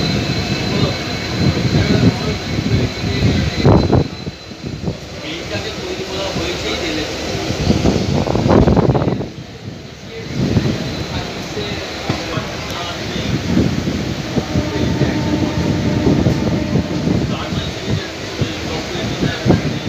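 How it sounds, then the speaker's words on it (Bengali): Amta local electric train departing platform 8 at Santragachi station toward Howrah, a steady rumbling roar of wheels and motors throughout, with two brief dips, heard up close from aboard or beside the train, with faint voices under it. "এখন সাঁতরাগাছি প্ল্যাটফর্ম থেকে ৮ নম্বর প্ল্যাটফর্ম থেকে আমতা লোকাল ছেড়েছে, হাওড়ায় যাচ্ছে।"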